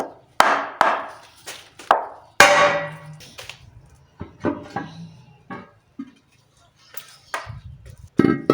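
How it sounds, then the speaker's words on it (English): Metal hammer tapping on an Alfa Romeo engine oil sump with its bolts removed, a series of sharp clangs, several in quick succession then spaced hits, close and loud, with a few quieter knocks between. "tap here onto the sump. All the bolts are out"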